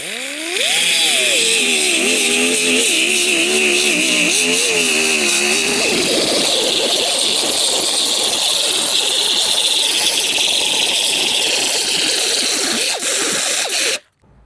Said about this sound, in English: lightly run over it with a roll lock to take the top off